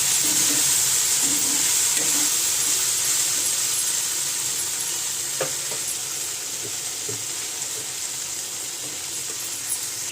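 Okra frying in a pan with salt and turmeric, a steady bright sizzle hissing throughout while a spatula scrapes and stirs now and then, close and fairly loud with no talking.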